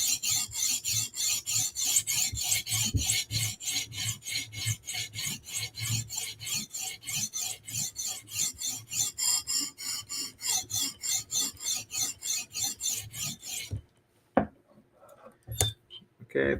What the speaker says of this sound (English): I can sharpen without hitting anything. Stone can get to the very end of the edge.